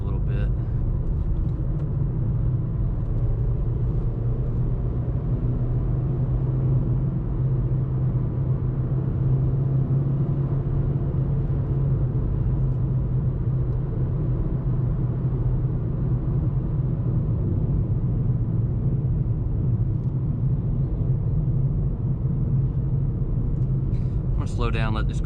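A 2022 Nissan Versa S with a five-speed manual pulls uphill after a downshift, its engine a steady low drone under cabin road rumble for the whole stretch, with no break in the sound.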